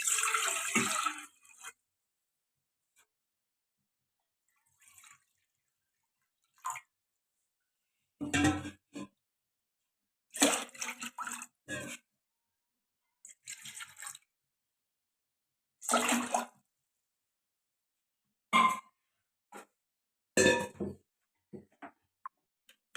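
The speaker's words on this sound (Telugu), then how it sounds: "అదే కప్పుతో 3 కప్పులు వాటర్ వేసుకోవాలి" Water is poured from a cup into a pot on a kitchen stove, three cupfuls, to cook vermicelli. Short splashing bursts are separated by long quiet gaps.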